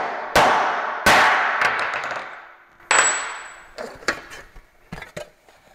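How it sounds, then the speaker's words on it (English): Loud metallic hammer strikes on a dimple die punch in sheet metal ring out, two big clangs then a third, followed by several lighter taps, each leaving a fading ring. "use a hammer,"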